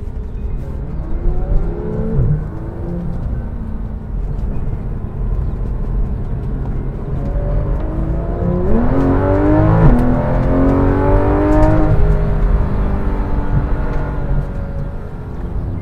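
A high-revving Porsche 911 GT3 RS engine roars from inside the car on a racetrack, pitch climbing through repeated gear changes and then dropping back, loud and continuous.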